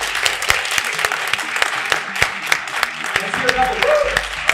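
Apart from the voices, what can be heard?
audience clapping loudly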